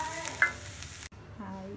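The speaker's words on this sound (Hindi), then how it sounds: "इसको प्याज को इसी में आपको ब्राउन कर लेना है" Onions browning in oil for a pea paratha filling give a steady close hiss with a brief scrape of stirring, a sudden cut near the middle, then a softer sizzle that resumes.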